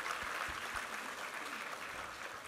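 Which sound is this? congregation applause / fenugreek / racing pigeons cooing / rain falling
congregation applause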